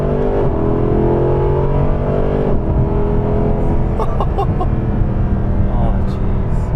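Mercedes SLS Black Series V8 engine downshifting while cornering, a loud, continuous harmonic drone with a shift break partway through and short blips near the end, heard from inside the car with people talking over it.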